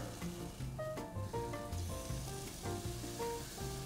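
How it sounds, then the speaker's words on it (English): Steak sizzling on a grill, a steady crackling hiss heard beneath tuneful background music. "Starting to get a pretty good sizzle."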